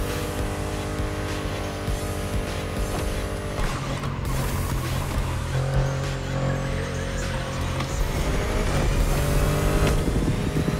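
Engine of a Koenigsegg Jesko hypercar driving in the racing game The Crew Motorfest, a continuous loud hum that swells and eases as it accelerates, with faint tire noise and no talking.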